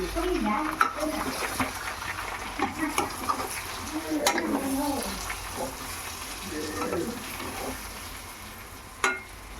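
A spoon stirs raw banana tempering with crushed peanuts and dal in a frying pan, giving steady scraping strokes over a soft sizzle, with a few sharper clinks against the metal.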